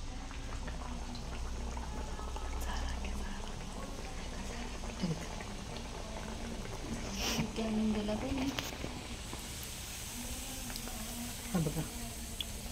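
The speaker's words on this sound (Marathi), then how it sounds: "मी हे तेलामध्ये टाकते वडा." Chicken vadas drop into hot oil and sizzle with a steady, bubbling frying hiss throughout, close and fairly quiet, with a voice speaking intermittently over it.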